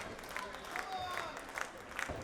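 Spectators at a PPW cruiserweight title wrestling match applaud and cheer for the champ, a steady wash of clapping and crowd noise beneath a commentator's voice.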